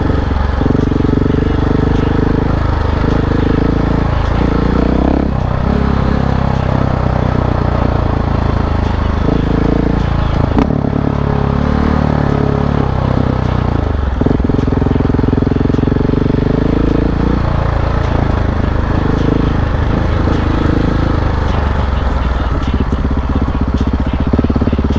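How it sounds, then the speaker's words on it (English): A 2021 KTM 690 Enduro R dual sport motorcycle drones steadily and loudly throughout, revving up and down as it rides along trails, with wind rumble mixed in. "riding a 2021 KTM 690 today, just doing a little dual sport riding"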